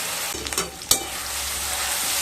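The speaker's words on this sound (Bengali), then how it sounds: "মিশিয়ে নিয়ে পেঁয়াজ আর রসুনকে ভালোভাবে কষিয়ে নেব" Onion and garlic frying in a pan with a close, continuous sizzle and soft stirring, broken by one sharp utensil click partway through.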